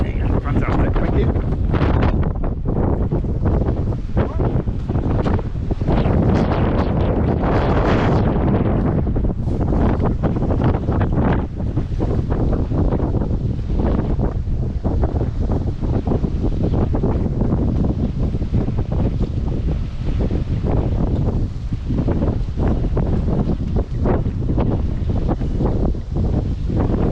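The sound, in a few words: wind blowing during boat winter lift-out at pontoon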